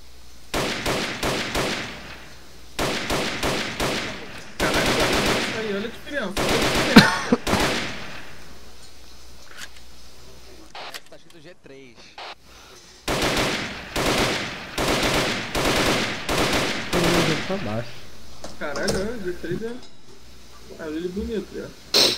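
Video game gunfire from a Battlefield-style shooter comes in long automatic bursts, loud and close, that stop and start repeatedly with a quieter stretch in the middle, while someone talks over the shooting.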